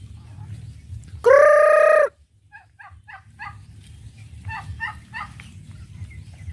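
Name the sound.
turkeys gobbling on a farm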